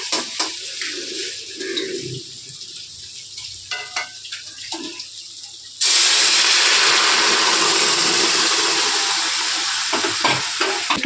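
Fried spices in a pan for a Bengali dish, crackling and spattering under stirring clinks, then hot water poured in bursts into a sudden loud, steady roaring boil that continues to the end, with no voices.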